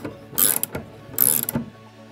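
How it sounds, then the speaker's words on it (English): A pressure transmitter with sealed threads being screwed into a fitting gives two short bursts of close metallic clicking and ratcheting, separated by a brief pause. "and screw this into the fitting."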